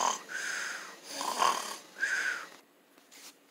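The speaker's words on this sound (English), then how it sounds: "I think I hear him snoring." Slow, rasping snores repeat in a steady rhythm, quiet and close, with a wheezy breath on each inhale.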